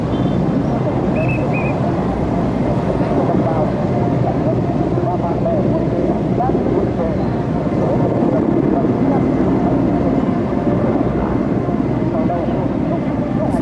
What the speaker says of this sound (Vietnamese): Đoàn trực thăng đang bay bên trên dãy hoa phượng đỏ rực,